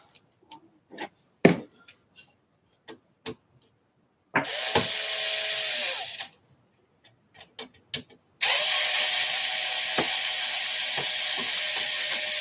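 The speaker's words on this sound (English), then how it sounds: "looks like there's a couple screws right there. So let's take those out." A power screwdriver backs bracket screws out of an Arcade1Up Rampage arcade cabinet in two long whirring bursts close up, with scattered clicks, taps and handling knocks before and between them.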